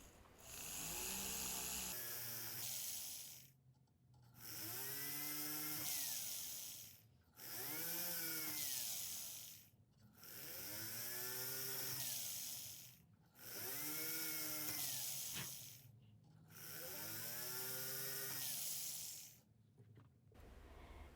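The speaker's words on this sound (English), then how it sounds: "So I'm going to drill a hole in all of the white areas of my design." A power drill bores a series of holes in a metal resin-inlay pin blank, five or six separate drilling bursts of a few seconds each with short pauses between, steady and close.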